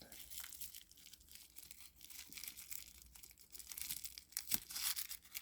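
Faint, close sticky tearing and crinkling as tape is slowly peeled off a handbag box in bursts, with a sharper rip near the end.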